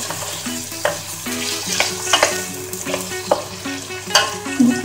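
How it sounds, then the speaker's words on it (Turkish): Potatoes fry in a pan for a leek dish, giving a steady sizzle under repeated scraping stirs and clinks of the spoon in a quick, uneven rhythm, close and clear. "Şimdi patateslerimi de ilave ediyorum. Şöyle birazdan da çevirelim."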